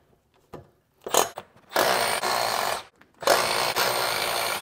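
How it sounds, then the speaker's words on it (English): Two sustained bursts of a power tool, likely an impact driver or drill, back out 6mm Allen bolts from the brake rotor of a DRZ400SM motorcycle, with short bumps and pauses in between. "These are those 6mm Allen bolts, so I'm going to pop all those out."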